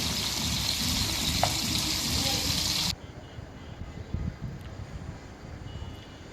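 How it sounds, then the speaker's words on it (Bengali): Snakehead (shol) fish hit hot oil village-style, giving a loud, dense sizzle for about three seconds that then drops to a softer, steady crackle with small bubbling pops. "তেলটা গরম হয়ে গেছে এরপরে শোল মাছগুলো দিয়ে দিচ্ছি"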